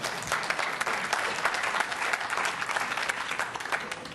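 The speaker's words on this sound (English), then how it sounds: "applause deferred is better than no applause at all" An audience at a tech conference session breaks into sustained applause, a dense patter of many hands clapping steadily and fairly close throughout.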